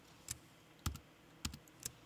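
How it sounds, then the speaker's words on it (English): A few separate computer keyboard keystrokes, sharp clicks spaced irregularly over a quiet background, close and fairly soft. "So let's do hi, and then we'll type in"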